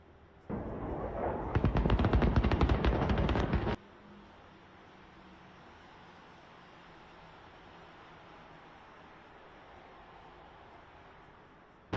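Dense automatic gunfire rattles loudly in one sustained burst of about three seconds, then cuts off sharply into a steady low hiss, in a video of a fighter jet being shot down.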